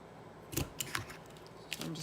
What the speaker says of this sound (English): I'm gonna use my Crop-A-Dile to punch the holes out rather than trying